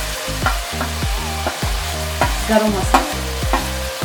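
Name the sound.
stirring spices frying in a pan for chicken curry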